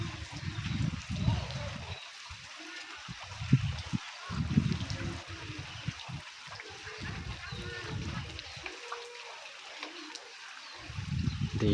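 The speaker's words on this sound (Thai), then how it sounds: "ทางนี้น้ำไหลบ่ทัน" Floodwater runs after heavy rain near a house, a soft steady trickle and wash of moving water in the background while a voice talks on and off over it for most of the stretch.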